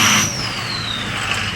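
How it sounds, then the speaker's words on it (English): A truck's engine whistle, heard with the windows down, rises as a thin high tone that slides steadily downward over a loud, steady engine rumble close by. "Listen to that whistle."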